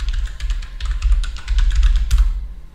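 Rapid keystrokes on a computer keyboard while entering certificate details, quick irregular clicks in bursts with brief pauses, close and clear with no talking.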